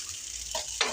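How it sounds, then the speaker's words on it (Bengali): Rice fried in oil in a pot for chicken biryani gives a brief, steady hiss of frying, with a soft stir near the middle and a sharper scrape at the end. "এখন চালটা ভেজে নেব।"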